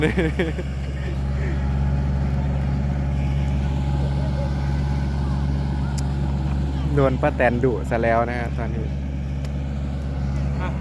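A tractor engine rumbles steadily and close by throughout, a low continuous drone with people talking in Thai over it toward the end.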